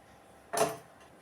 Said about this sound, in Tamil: இப்போ ஒரு சட்டியை அடுப்பில் வச்சுக்குவோம்